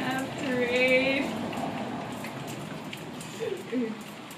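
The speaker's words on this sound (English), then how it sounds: "Why did it have to rain?" Rain falls steadily outdoors in a close, even wash of patter, with a voice briefly audible over it near the start and again toward the end.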